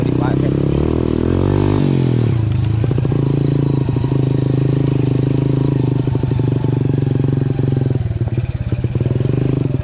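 Motorcycle engine running and revving while riding a rural farm-track ojek bike fitted with Pro Taper handlebars, a loud, steady drone with rising pitch and rattling clatter throughout, close to the microphone.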